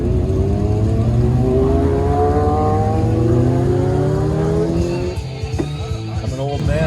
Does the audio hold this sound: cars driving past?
yes